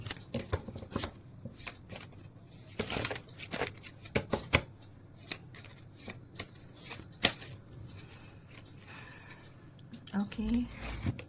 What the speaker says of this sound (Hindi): तब तक मैं आपके लिए निकालती हूँ कार्ड्स